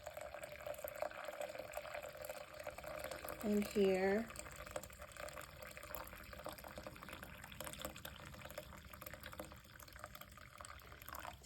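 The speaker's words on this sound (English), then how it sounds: "I'll put some more water" Water is briefly poured into a crock pot set on low, where jars of lavender are soaking, making a short gurgling fill of about a second amid quiet room noise and a few spoken words.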